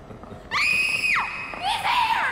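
Two high, piercing screams in the Outlast 2 game, a sustained wail followed by a shorter, wavering shriek, loud and close against a quiet background.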